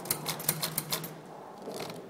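Quick bursts of typewriter keystrokes clatter close and crisp through the first second, about eight sharp strikes, then thin out into a few softer taps and a light mechanical rustle.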